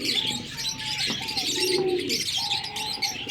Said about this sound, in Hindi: ये भी एक कबूतर हमारा